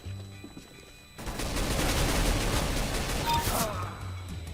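Sustained automatic gunfire in Counter-Strike: Global Offensive, a dense, loud burst of rapid shots that starts suddenly after a quiet moment and runs for several seconds before stopping.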